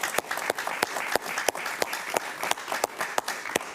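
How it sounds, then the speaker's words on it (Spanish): Audience applause on a Spanish-language talk show for guest Francisco Acosta, heard as a sparse, moderately quiet run of individual claps with distinct sharp hand strikes in a loose rhythm. "Un gran aplauso para Francisco Acosta"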